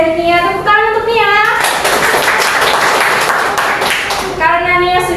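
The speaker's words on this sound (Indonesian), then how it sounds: "Tepuk tangan untuk Nia." A small classroom claps for a pupil in a brief burst of hand clapping, with a teacher's voice speaking before and after the applause.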